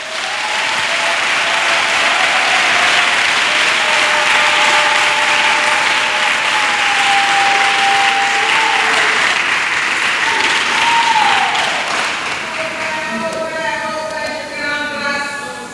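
Sustained applause from a church congregation at a thanksgiving service fills the whole stretch, loud and steady, with a sung or held voice gliding over it and a faint rhythmic undertone near the end.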